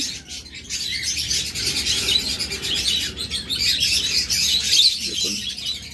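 A dense flock of caged lovebirds and budgerigars chirps and tweets continuously, bright overlapping calls filling the space at close range with no talk over them.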